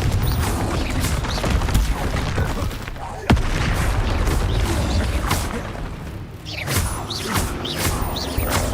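A Confringo spell fires in Hogwarts Legacy amid dense video game combat, with booming blasts, whooshes and crashing impacts layered continuously and one sharp bang standing out midway.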